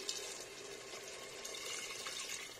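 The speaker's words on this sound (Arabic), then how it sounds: "نمرق بالماء سخون" Hot water is poured into a pot for freekeh chorba, a faint steady splashing stream that runs unbroken for a couple of seconds.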